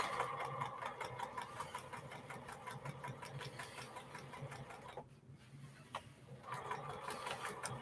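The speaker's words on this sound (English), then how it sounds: "Take my time and sew this seam." A sewing machine stitches a quilt block seam with a fast, steady run of needle strokes, close and loud, pausing briefly near the end before a short final burst, with no talking.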